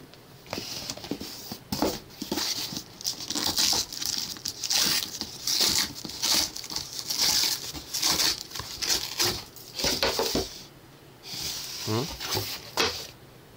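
Crinkling plastic and paper packaging of a GorillaPod tripod and smartphone mount being opened and crumpled up close, in irregular loud bursts of rustling and tearing over about thirteen seconds, with brief pauses between handling.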